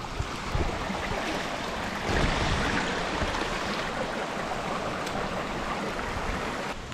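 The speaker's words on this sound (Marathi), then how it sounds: "तर पहिला ओढा क्रॉस झालेला आहे." Steady rushing of a shallow stream being waded across on a forest trek, a loud broadband wash of water that swells briefly midway, with no voices.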